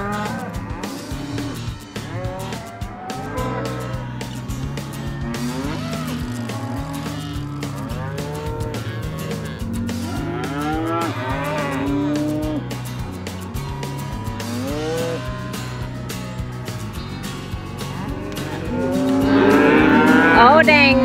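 Cattle moo and bellow repeatedly as cows are driven out a gate and their calves held back, a crowded overlapping chorus of low and higher calls that grows louder near the end.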